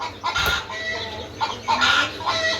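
Hens cluck close by in repeated bursts, a rapid uneven run of short calls with brief pauses between, with no one talking over them.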